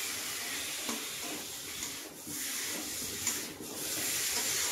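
Potatoes stirred and fried in a pan for an egg curry, a steady soft sizzle running throughout with faint stirring scrapes, close and moderately quiet, no talking.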